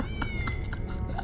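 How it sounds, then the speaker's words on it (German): A cat meows in the PS1 game Harry Potter and the Philosopher's Stone: a short run of clear, tonal meows over a steady low background hum. "Ah, hier ist die Katze drin."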